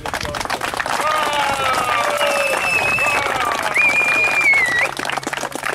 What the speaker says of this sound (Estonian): Ja Reinule ja Veiksile aplaus.